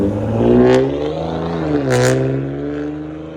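A 2020-2024 Toyota Camry TRD with a 3.5L V6 and fully straight-piped exhaust, catalytic converters retained, revs up close by, its rasping tone climbing and falling twice over a steady idle.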